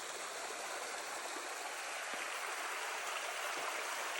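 Steady flowing spring water, a continuous bright rushing and trickling like a small stream, close by and alone with no voices.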